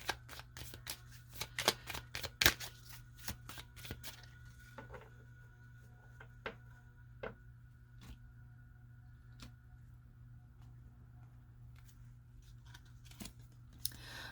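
An oracle card deck is shuffled close by in a quick burst of riffling clicks, then a few slower, scattered card taps follow over a low steady hum.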